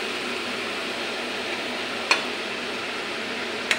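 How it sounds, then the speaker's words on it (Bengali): Turmeric being stirred into raw moong dal cooking in a pan: a continuous soft frying hiss with two sharp utensil taps against the pan, no talking. "আমি হলুদটা ডালের সঙ্গে মিশিয়ে নিই।"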